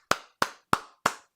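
Four sharp, evenly spaced hand claps from a sound effect played during a live badminton final commentary stream, each crisp and bright with a short decay, close and alone without talk.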